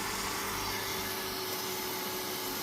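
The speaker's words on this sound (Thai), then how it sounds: "พัดลมเหมือนลูกปืนมันจะแตก" Cooling fan of a solar pump BLDC controller with a failing bearing, a steady loud broadband whir with a faint hum running unchanged throughout, close and alone.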